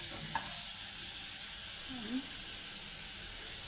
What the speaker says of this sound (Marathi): आपण त्याच्यामध्ये हे माशाचे तुकडे टाकून घ्यायचे चांगलं परतवून घ्यायचं